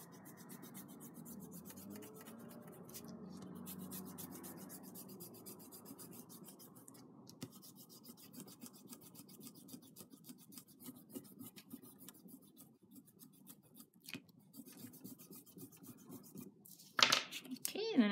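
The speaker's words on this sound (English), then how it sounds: "So I think it should be ready to erase, and I'll start with the part that I inked first so it's the driest." An eraser rubs back and forth over an inked drawing on paper in a quiet studio, producing a soft, faint, steady scrubbing with a brief louder scuff near the end.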